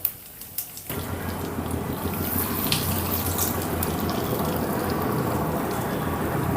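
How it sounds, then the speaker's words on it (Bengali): Peanuts and dried chilies frying in hot oil in a pan, heard as a sudden dense crackling sizzle that starts a second in and stays loud and steady, with sharp pops scattered through it. "বাদামটা কিন্তু একটু একটু করে ফুটে যাচ্ছে"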